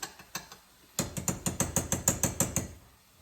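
A salt and pepper grinder is twisted over food, giving a few scattered clicks and then a steady run of about a dozen close, rhythmic ratcheting cranks, with no talk.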